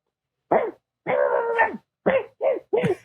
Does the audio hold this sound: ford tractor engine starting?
no